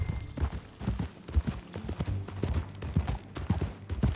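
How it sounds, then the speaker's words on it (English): Horse hooves clip-clopping in Red Dead Redemption 2 as riders travel together, a steady, close, rhythmic four-beat clatter of hoofbeats repeating throughout with no talking. "That a new horse?"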